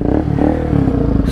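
Bajaj Pulsar RS200 motorcycle fitted with a loud aftermarket exhaust, its engine running and revving close by in a steady, throaty drone with some clatter, loud throughout the short stretch.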